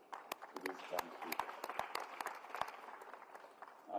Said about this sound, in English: can you give an applause to this country?